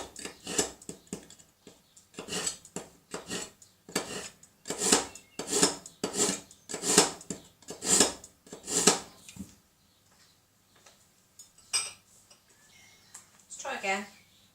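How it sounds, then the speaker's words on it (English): A kitchen knife being sharpened, a run of rhythmic rasping strokes, about a dozen, close and fairly loud, before a pause and a couple of scattered scrapes and clinks. "Let me just sharpen my knife."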